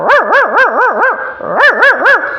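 A voice imitates a dog barking, a rapid series of about eight woofing yelps in two quick bursts, loud and close.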